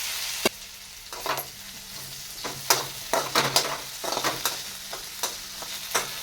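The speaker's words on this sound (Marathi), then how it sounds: "आता झाकण ठेवायचं आहे आणि 2 मिनिट बारीक गॅसवर बटाटा आपल्याला शिजवून घ्यायचा आहे." Potatoes cooking in a masala in a pan on low gas, with a steady soft sizzle broken by sharp, irregular clinks and scrapes of a spoon stirring against the pan. Close and clear, with no talking.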